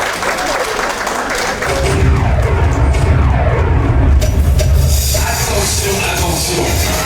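A crowd applauds loudly at a gathering in Paris honouring the visiting King of Bansoa, the clapping swelling after a brief start and holding as a dense, steady roar with some voices mixed in.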